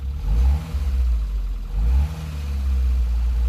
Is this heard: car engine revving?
yes